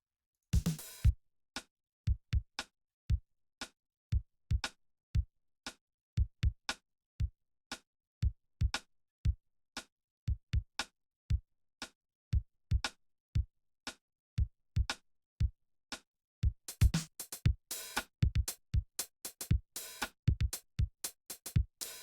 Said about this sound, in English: the drums alone sound like this